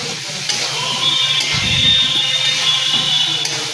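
Masala spices being stir-fried in a pan for a chicken dish: a steady, close sizzle with spoon stirring and scraping throughout, no voices.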